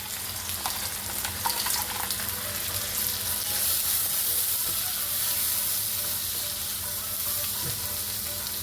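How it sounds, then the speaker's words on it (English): Frozen vegetables and onions sizzle and fry steadily in a pan for Spam fried rice, a continuous loud crackling hiss with light stirring clatter and no one talking. "I'm going to go ahead and add in my frozen veggies."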